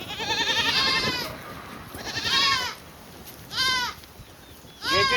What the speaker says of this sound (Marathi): आणि तुम्हाला मी आमच्या इथे बकऱ्या दाखवते